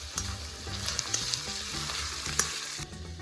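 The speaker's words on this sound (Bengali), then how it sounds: "একটু ভেজে নিচ্ছি।" Green chillies fry in a pan over a medium flame while cooking mutton ghugni, giving a steady close sizzle with a few sharp pops and spatters and a brief stir near the end.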